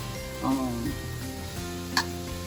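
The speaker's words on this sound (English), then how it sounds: "I'm gonna saute these green leaf cabbage" Green leaf cabbage sautéing in a pan, a soft steady sizzle with a few light stirring touches, close and fairly quiet beneath a brief voice.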